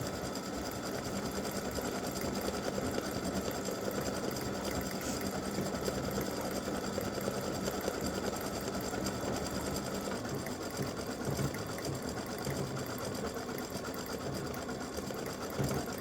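An embroidery machine stitching a freestanding-lace bow runs in a continuous rapid mechanical chatter, steady and fairly loud from start to finish with no talking.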